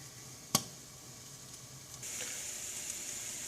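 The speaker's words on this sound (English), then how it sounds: "So you can hear them popping and sizzling and whatnot in there." A quiet, steady sizzle of poblano peppers roasting, punctuated early by one sharp pop, with the hiss growing slightly louder partway through.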